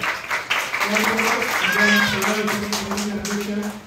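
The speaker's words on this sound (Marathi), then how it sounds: "सगळ्यांनी जोरदार टाळ्या" Audience applause at a municipal gathering, a steady patter of clapping under a voice talking and a sustained tonal hum.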